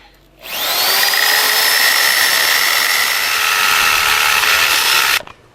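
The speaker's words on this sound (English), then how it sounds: "Okay, go ahead, drill away." A power drill whines steadily and loudly for about five seconds as it bores through a brick chimney and its liner, starting and stopping abruptly, with no voices.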